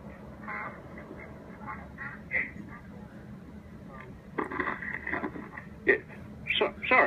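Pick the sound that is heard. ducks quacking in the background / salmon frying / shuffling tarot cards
ducks quacking in the background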